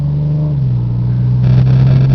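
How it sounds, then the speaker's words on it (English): A 2005 Ford Mustang convertible idles with a steady low engine hum, close and fairly loud, the tone shifting slightly as it runs with no talking. "the motor sounds great in this car"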